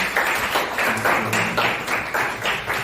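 Classroom applause led by the class officers, a rhythmic patterned clapping in repeated bursts with short gaps, close and fairly loud, with no voices over it.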